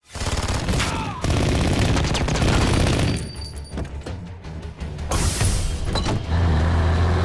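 Sustained bursts of automatic gunfire rattle in a film action scene, loud and dense with brief gaps, mixed with crashing vehicle and mechanical noise.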